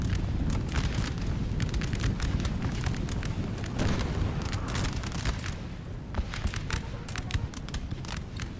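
Battlefield din from Napoleon: Total War, with enemy artillery shells bursting in dense, rumbling booms amid continuous crackling musketry and roar, loud and sustained throughout with sharper blasts toward the end; speech-like murmur sits low in the mix.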